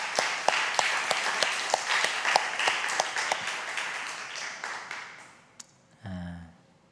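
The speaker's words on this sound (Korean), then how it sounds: "우리 박수로 환영하겠습니다." Church congregation at a Sunday worship service applauding in welcome, a sustained round of clapping with distinct sharp claps standing out, gradually fading away, followed by a short spoken voice at the end.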